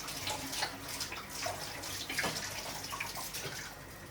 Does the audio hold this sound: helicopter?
no